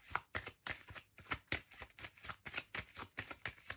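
Tarot cards handled and shuffled before a card is drawn, a rapid series of crisp papery flicks and slaps in an uneven rhythm, close and quiet.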